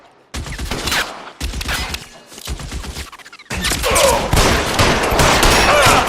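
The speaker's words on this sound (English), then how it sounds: "Suppressing fire!" Gunfire in the video game L.A. Noire comes in loud, rapid bursts separated by short gaps, then settles into a sustained stretch of dense shooting.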